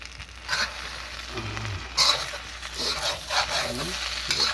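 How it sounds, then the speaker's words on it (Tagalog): Pancit bihon rice noodles stir-fried in a pan, with scraping, stirring strokes and a light sizzle, moderately close, with some faint background noise. "luto na ang pansit bihon"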